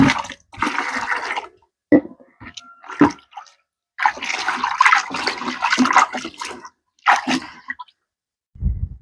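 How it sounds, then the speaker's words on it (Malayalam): Water mixed with homemade fertilizer poured from a bucket onto garden plants, in several splashing bursts separated by short pauses, close and fairly loud, with no talking. "ഇനി കുറച്ച് വെള്ളം കൂടെ ചേർത്തിട്ട് ബക്കറ്റൊക്കെ ഒന്ന് കഴുകി അങ്ങോട്ട് ബാക്കിയുള്ളതും കൂടെ ഒഴിച്ചു"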